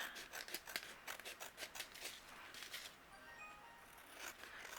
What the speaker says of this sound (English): You can just take your scissors and trim away